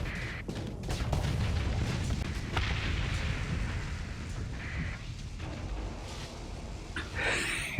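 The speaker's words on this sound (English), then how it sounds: "We almost hit our own ship with a torpedo" Torpedo explosions in the space combat game Starsector, a run of deep booming blasts and rumbles rolling through the clip, with sharper bursts near the end and no talking.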